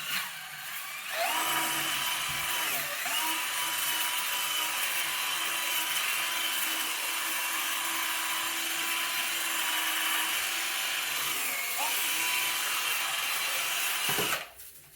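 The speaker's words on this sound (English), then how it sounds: "using the power drill instead of your grout brush doing it all by hand" A power drill spins a scrub brush across shower tile grout, producing a steady, close whirring scrub that runs almost without a break for about thirteen seconds, with no voices.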